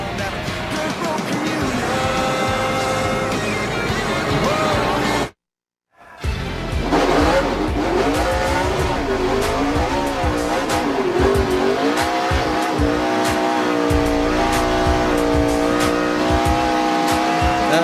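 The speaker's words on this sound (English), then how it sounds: "Some of the noise from inside the cockpit from our microphone, riding along with the winner, Joey Logano" Loud, continuous engine roar from inside the cockpit of Joey Logano's NASCAR race car at Charlotte Motor Speedway during the 2012 Dollar General 300, rising and falling with revs, broken by one brief dropout around five seconds.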